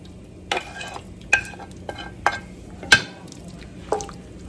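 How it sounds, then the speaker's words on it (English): A spoon stirs a pasta sauce with shrimp in a pan, making a few separate wet scrapes and clinks spaced about a second apart over a faint simmering hiss, close and fairly quiet, with no talking. "We're going to give that a stir, and then we're going to add our shrimp back in."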